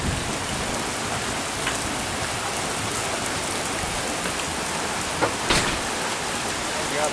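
Steady rain pours down on a day that began with snow, a dense even hiss of drops with a few louder close splashes, and nobody speaking.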